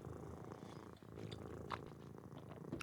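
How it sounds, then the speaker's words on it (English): Steady, continuous cat purring from the puzzle video game A Little to the Left, a soft rumbling loop running through the whole moment without any talk. "Ooh, love a good purr sound."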